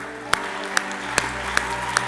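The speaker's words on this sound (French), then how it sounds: "Est-ce qu'on peut l'acclamer?" A church congregation at a service in Côte d'Ivoire claps in steady unison, with about five sharp, evenly spaced beats over a low murmur.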